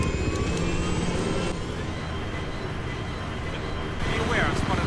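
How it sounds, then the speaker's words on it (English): An enemy helicopter flies close in the shooter game Battlefield 3, giving a loud, continuous engine and rotor roar mixed with other gameplay noise throughout. "There's an enemy helicopter chasing me."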